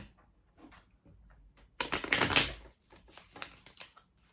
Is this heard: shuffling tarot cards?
yes